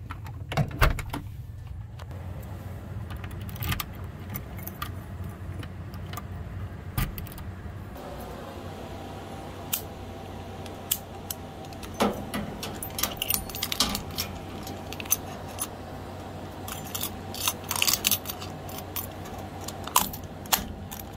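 Keys jangle up close while a house is being locked up, with soft metallic clinks and handling rattles over a quiet indoor background, no talking.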